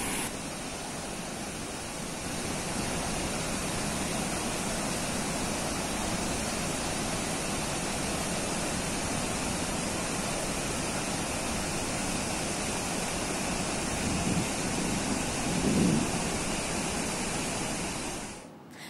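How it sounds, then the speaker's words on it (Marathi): A waterfall drops 30 to 40 feet in a constant, dense roar of crashing water and spray, heard alone and steady from start to finish. "30 ते 40 फुटांवरून कोसळणारा हा धबधबा, उडणारे तुषार आणि कोसळणाऱ्या धबधब्याच्या एकसुरी आवाजाने पर्यटकांना वेगळाच आनंद"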